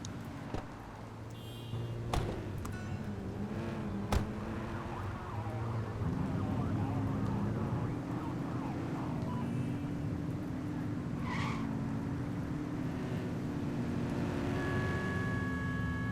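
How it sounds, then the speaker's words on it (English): A police car siren in the video game The Precinct wails steadily over a continuous engine rumble, loud and unbroken, with no talk. "Get on that tail and flip the siren."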